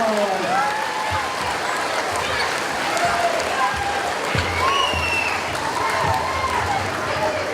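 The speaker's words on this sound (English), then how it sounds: "a big round of applause." Applause from an audience at a summer event rises and continues steadily for several seconds, a dense wash of clapping with some crowd noise and scattered louder claps.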